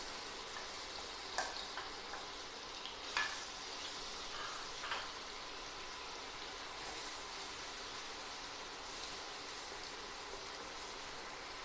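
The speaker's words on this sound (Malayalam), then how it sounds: "ഓയിൽ ഒന്ന് ചൂടായി വരുമ്പോൾ നമുക്ക് അതിലേക്ക് ചതച്ച് വെച്ചിരിക്കുന്ന ഇഞ്ചിയും വെളുത്തുള്ളിയും ഇട്ട് കൊടുക്കാം" Crushed ginger and garlic fried in hot oil for chicken dum biryani: a soft, steady hiss of sizzling with a few light clicks from stirring, with no talking.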